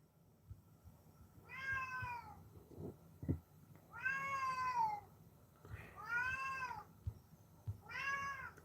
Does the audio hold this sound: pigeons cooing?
no